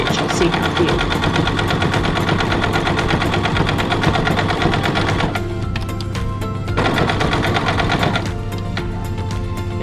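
A sewing machine stitches a decorative stitch along an apron hem in rapid, even needle clatter, pausing briefly twice before resuming at a steady pace.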